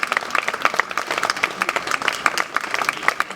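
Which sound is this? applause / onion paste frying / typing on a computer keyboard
applause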